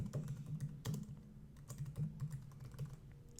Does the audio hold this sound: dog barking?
no